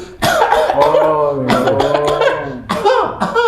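Harsh, voiced coughing bursts come close and loud, mixed with laughter-like vocal sounds, in a rough, uneven rhythm.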